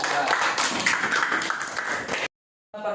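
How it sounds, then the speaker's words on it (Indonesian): A classroom group claps for a team of students, brisk dense hand-clapping for about two seconds before cutting off abruptly, with a voice returning briefly afterward. "kita kasih aplaus tepuk tangan buat kelompok"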